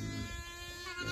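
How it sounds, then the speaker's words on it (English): Goats on a homestead bleat in a brief, nasal, wavering cry, heard close and fairly faint against outdoor background. "Goats."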